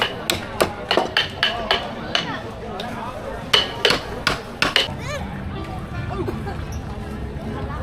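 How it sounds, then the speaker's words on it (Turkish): Handmade crafts are beaten by hand with hammers in Vietnam, giving a run of sharp, fairly close metallic taps in uneven bursts, then fading, over background crowd chatter and a nearby voice. "Bunların hepsini elleriyle bu şekilde vura vura yapıyorlar."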